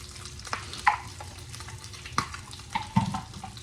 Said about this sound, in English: You can hear the bacon sizzling.